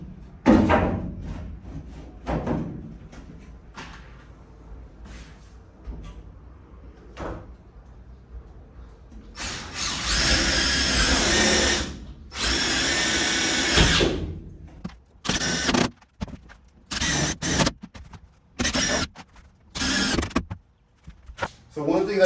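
A power drill drives self-tapping wood-to-metal screws through wood into the metal framing inside a bus. It whirs close and loud in several sustained bursts, with short pauses and some light handling noise between them.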